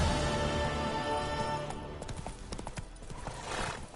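Roach, a horse in The Witcher 3, trots and gallops with steady clip-clop hoofbeats over game music, and a brief whinny rises near the middle.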